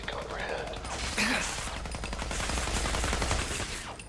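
Sustained video game gunfire in a city setting, dense rapid shots rattling continuously for several seconds at steady loudness with a brief heavier burst near the middle.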